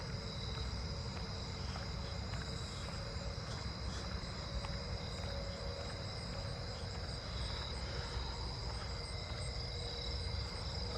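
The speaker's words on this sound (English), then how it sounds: "I hear another Japanese burrowing cricket." Japanese burrowing cricket chirping in a neighbourhood at night, a continuous trill blended with a chorus of other insects, steady and moderately faint.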